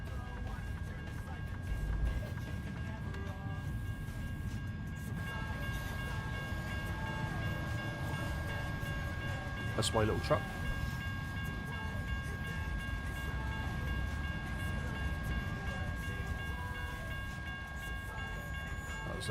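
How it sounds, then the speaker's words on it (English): A train rolls past a truck waiting at a railroad crossing in American Truck Simulator, a steady rumbling clatter of wagons with a continuous drone and a brief horn-like tone midway, while someone talks. "Train."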